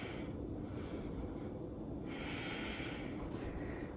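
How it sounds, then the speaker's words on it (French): During a dynamic yoga session, close, audible breathing swells in slow waves against a steady hiss of background noise. "On respire."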